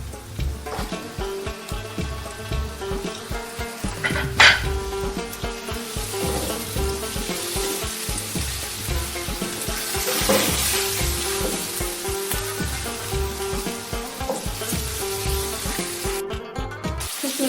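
Whole spices such as nutmeg, cardamom, cloves and cumin fry with tomatoes for chicken biryani, giving a loud, steady sizzle with stirring clatter and a brief sharp clink midway.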